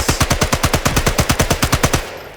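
Submachine gun firing in a video game: a rapid, steady burst of about eighteen loud shots in even rhythm, lasting roughly two seconds before cutting off.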